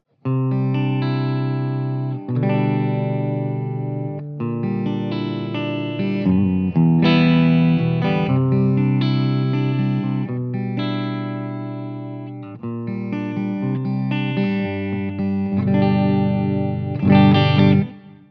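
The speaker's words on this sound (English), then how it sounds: "what I have is a clean sound if I have the amp just, without any pedals on" Electric guitar played through a tube amp into a Celestion Vintage 30 cabinet with no pedals, a clean tone ringing out in sustained chords and notes alone, steady and fairly loud for about eighteen seconds.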